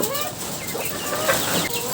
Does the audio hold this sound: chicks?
yes